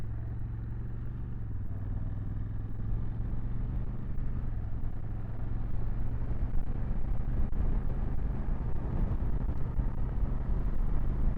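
A Honda CRF1100 Adventure Sports DCT motorcycle cruising on a clear open road, its engine a steady low drone that swells slightly as the throttle is gently opened, with wind rush over it.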